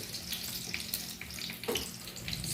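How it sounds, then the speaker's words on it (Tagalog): Onion and garlic sautéing in a pan, a steady close sizzle and crackle with faint scraping, no voices. "nag-start tayo sa pagisa ng onion at garlic"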